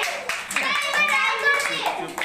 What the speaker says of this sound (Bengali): বাহ, হাততালি।